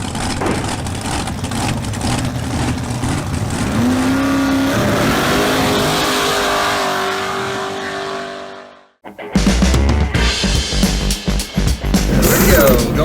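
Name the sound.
1969 El Camino Super Sport with LS 427 engine driving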